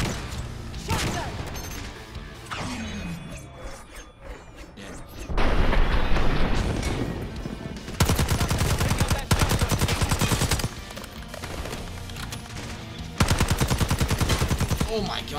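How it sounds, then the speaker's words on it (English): Shotgun blasts and heavy automatic gunfire in a Call of Duty: Black Ops 6 campaign mission, loud dense volleys in bursts with booms, mixed with game noise and a voice speaking over the combat. "Shotgun!"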